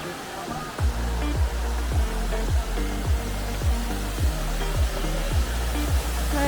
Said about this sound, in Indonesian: Di sini sudah mulai terdengar ya suara gemericik airnya